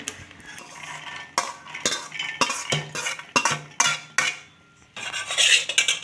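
Peanuts being stirred and dry-fried in a metal pan, with a utensil repeatedly scraping and clinking against the pan in irregular bursts, fairly close and clear with no talking.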